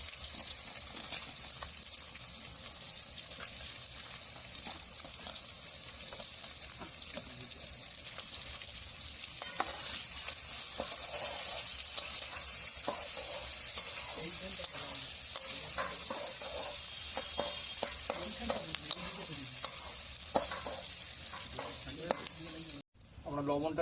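Whole garam masala, bay leaves and onion frying in oil at an outdoor winter picnic cook-up of goat meat, a loud continuous sizzle with stirring scrapes and occasional clatter, ending in a sudden cut.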